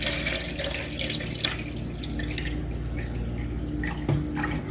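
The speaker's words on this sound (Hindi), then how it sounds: "सबसे पहले हम पानी डालेंगे" Water pours steadily into a jug for a juicer machine while making fresh mint lemon juice, a continuous splashing gush close by with a few brief clinks.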